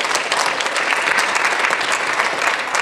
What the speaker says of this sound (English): Y'all just give God a clap of praise.